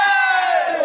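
A dense crowd of pilgrims at the Baba Basukinath temple makes a loud, sustained roar of massed voices, like a collective chant or cry, filling the whole moment.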